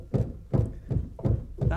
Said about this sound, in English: That's the sound of milling, and that's the grain being shaken down and dropping between the